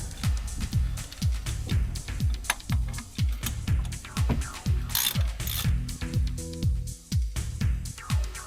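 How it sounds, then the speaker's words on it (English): A socket ratchet on a 10mm Allen key clicks in quick repeated bursts of sharp metallic ticks, close and steady, during suspension work on an Astra GTE 16V. "10mm Allen key on these."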